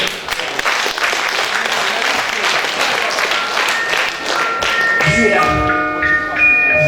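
Audience applause at a freestyle rap event, loud and steady clapping with some crowd noise, then sustained tones and a musical intro rising in the final seconds.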